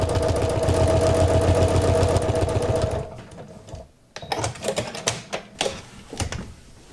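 Sewing machine stitching wavy lines on a sea glass greeting card, a fast steady mechanical whirr for about three seconds, then quieter clicks and handling noises once it stops.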